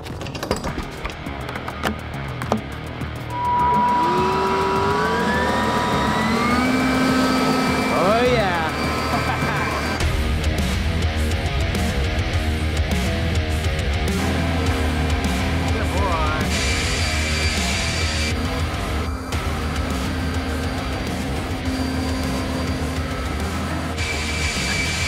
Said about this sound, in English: the leaf blower might have gotten the heavy stuff